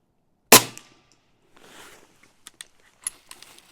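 A single sharp crack from a custom Umarex Notos air rifle firing a pellet, close and loud, followed by a few faint clicks and handling sounds.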